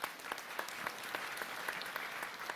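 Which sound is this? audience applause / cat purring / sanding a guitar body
audience applause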